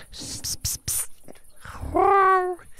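A human voice imitates a cat meowing, a drawn-out rising-and-falling nasal meow following a few breathy, hissy mouth noises, close and clear.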